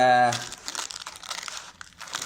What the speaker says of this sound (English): Don't even need scissors particularly to rip that